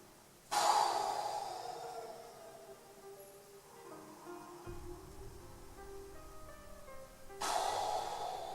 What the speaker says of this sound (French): un inspire généreux par le nez et un expire généreux par la bouche en respiration ventrale